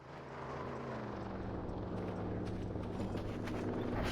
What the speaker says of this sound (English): That's the drone.